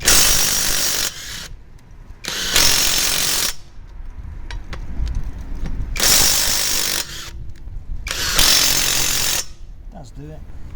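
A cordless impact wrench, a budget Makita knockoff, loosening taxi wheel nuts: several loud, close, rattling hammering bursts of about a second each, separated by quieter gaps, with some talk between them.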